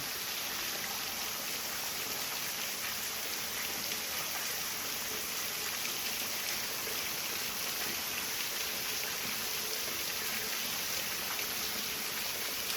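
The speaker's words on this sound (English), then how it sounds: "This water's coming, dripping down." Steady, continuous trickling and splashing water running down mountain rock after a storm, a dense hiss of drips and flow that stays even throughout with no voices.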